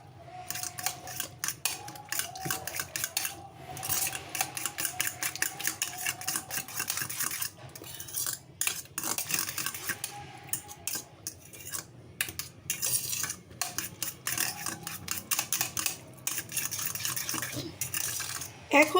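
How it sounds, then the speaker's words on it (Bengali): A fork beats batter in a bowl with quick, repeated metallic clinks and scrapes in uneven bursts and brief pauses, close and moderately quiet, lasting about twenty seconds. "এখন আমি এটা একটা কাঁটা চামচের মাধ্যমে নেড়ে নিব, খুব ভালোভাবে"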